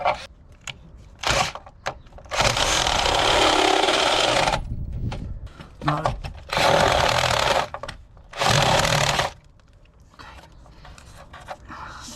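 A cordless drill drives a hole saw through the floor of a camper van under construction, giving loud harsh grinding bursts that start and stop several times, with short pauses between cuts.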